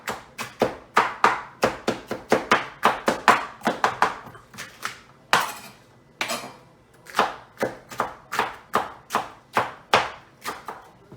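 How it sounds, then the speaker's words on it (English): A knife chopping peppers on a cutting board, a fast, even run of sharp close thuds that pauses briefly and then resumes in steady rhythm. "Now we're going to start chopping up peppers."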